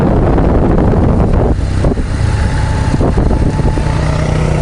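Honda CRF230 dirt bikes pulling away on a trail, a loud continuous engine drone close by with revs rising and dipping and no voices.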